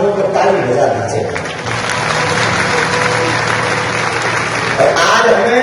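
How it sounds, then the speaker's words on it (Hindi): An audience gives sustained applause for journalists at a gathering about Sanatan Dharma with Dhirendra Krishna Shastri, a loud, dense clapping wash that continues throughout the clip. "एक बार समस्त पत्रकार बंधुओं को ताली बजा दीजिए।"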